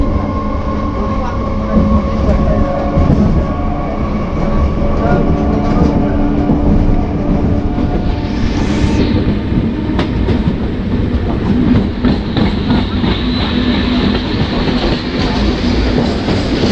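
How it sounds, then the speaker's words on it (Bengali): A Bandel–Katwa local train runs at night, heard loud and close from inside: a steady rolling rumble with rhythmic wheel clatter throughout, muffled voices faintly underneath. "আমাদের ট্রেন ছেড়ে দিল পরবর্তী গন্তব্যস্থলের উদ্দেশ্যে"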